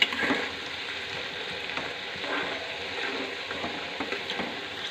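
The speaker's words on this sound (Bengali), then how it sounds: "এভাবে আলুটা ভাজতে থাকবো।" Shredded potatoes for jhuri aloo bhaja frying in hot oil over high heat, a steady close crackling sizzle running unbroken throughout, with no talking.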